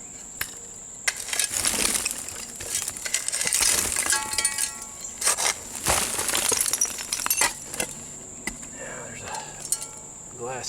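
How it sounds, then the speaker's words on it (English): A small shovel scrapes and digs through old broken glass and bottles in a hot-afternoon jug dump, with repeated clinks and crunches, insects buzzing throughout and scattered talk. "Alright, I'll use a smaller shovel here."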